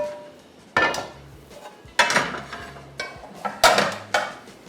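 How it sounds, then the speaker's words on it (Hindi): Metal pan set down on a kitchen stove while preparing cutlets, several sharp clanks and knocks of cookware spaced about a second apart, close and clear with no talking. "एक पैन लेते हैं"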